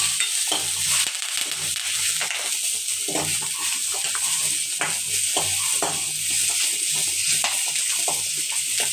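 Curry leaves sautéing in oil for a Jaffna-style fish curry, a constant dense sizzle with irregular stirring scrapes and small pops, near and steady, with no talk.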